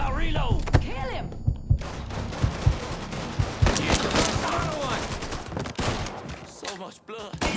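Dense, rapid gunfire from a shootout in the video game Mafia 3, bursts of shots crackling nearly continuously and loudly, with shouted voices mixed in.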